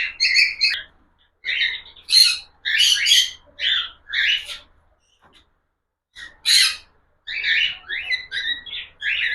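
A lutino cockatiel, about four months old, gives repeated harsh, shrill squawks in bursts close by while being held, with short pauses between calls.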